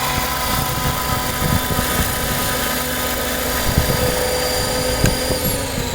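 A radio-controlled Airwolf size 600 helicopter comes down slowly to land, its rotor and engine whining loud and steady and close, with a constant buzzing drone throughout.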